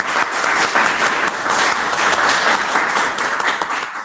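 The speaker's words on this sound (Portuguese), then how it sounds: "vamos dar uma salva de palmas para a Juliana" Audience applause after a lecture, a brisk, dense round of clapping from a seated crowd, steady and fairly close, tapering slightly at the end.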